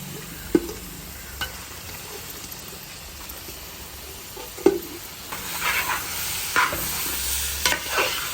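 Five kilos of chicken being stirred into fried onions in a pan for chicken perattu, with a steady sizzle under scattered clacks and scrapes of the spoon against the pan.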